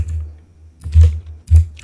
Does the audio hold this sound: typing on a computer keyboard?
yes